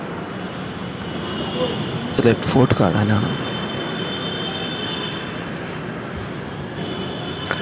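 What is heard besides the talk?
metro train running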